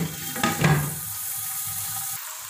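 Water is poured into a cooking pot of chicken pulao seasoned with garam masala, making a brief splashy rush followed by a quieter steady trickle, with no talking.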